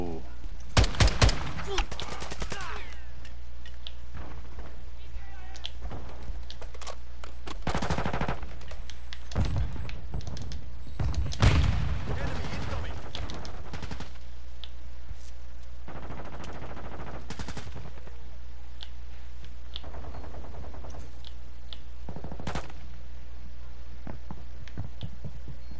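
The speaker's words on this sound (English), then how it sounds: "I spawn in the gunfire now?" Bursts of video game gunfire, rapid automatic volleys and single shots, come and go over a low steady hum across the stretch.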